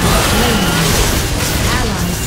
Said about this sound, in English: Enemy turret destroyed